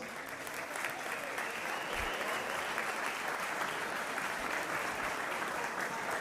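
A room full of people claps steadily at a festive gathering of the Hungarian Society in Villa Angela, Chaco, the applause continuous and fairly loud throughout with no pause or speech standing out.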